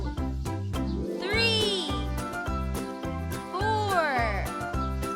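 Cartoon cats meowing in a children's counting lesson, two drawn-out rising and falling meows over a bouncy, jingly music bed while a voice counts aloud.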